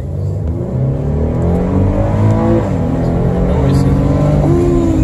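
A pickup truck engine accelerates hard on a test drive, loud and noisy, with a steady roar whose pitch climbs and shifts as it revs, heard from inside the cab without a break.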